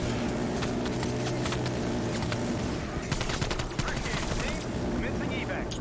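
Death Machine minigun in Call of Duty Black Ops Cold War zombies mode, firing continuously in a dense sustained roar of rapid shots with layered game effects throughout.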